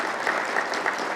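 Audience applause in a lecture hall, a steady wash of many hands clapping with a few sharper claps standing out, moderately loud and continuous.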